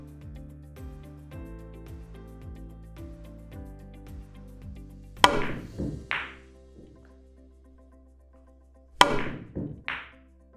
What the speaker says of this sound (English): I'm just trying to show you how this would look if I'm actually going for that cut shot